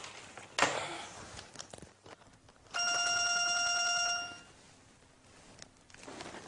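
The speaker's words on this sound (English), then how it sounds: "Linda, the phone is ringing." A telephone rings once in an office with a clear electronic trill lasting over a second, after a brief clatter and amid quiet room noise.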